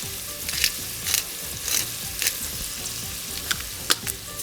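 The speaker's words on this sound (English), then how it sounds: "we're gonna saute this in the bacon grease" Garlic sautéing in bacon grease in a pan gives a steady, close sizzle, with a spoon scraping the pan bottom in repeated strokes that bring short, brighter bursts of crackle.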